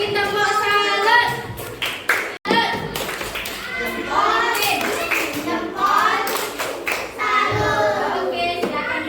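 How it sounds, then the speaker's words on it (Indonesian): Children in an elementary school classroom clap together in a rhythmic, patterned routine while their young voices chant and call out over the claps, with one brief pause partway through. "Beri tepuk salut."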